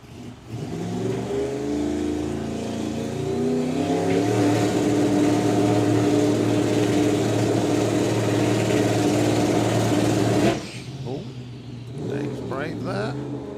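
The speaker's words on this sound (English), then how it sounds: "Twin turbo V8, so once again he's going to bring it into pre-stage. He's going to build up the RPM." A twin turbo V8 drag car builds revs in pre-stage at a drag racing event, a loud sustained engine roar climbing and holding before cutting off sharply, with an announcer talking over it.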